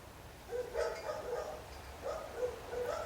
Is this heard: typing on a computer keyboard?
no